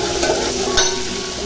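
Cumin seeds hit hot oil in a pan of tomato dal, giving a loud, close, continuous sizzle with a brief burst of crackle as they go in.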